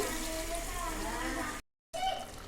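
Water poured into a brinjal and potato curry cooking in a pan gives a steady, close hiss and splash that runs for over a second, cuts out, then resumes briefly.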